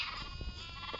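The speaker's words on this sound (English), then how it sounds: "So wait for the baby sheep to die." A baby sheep in a blocky building video game gives a short, faint bleat, a single wavering cry heard alone.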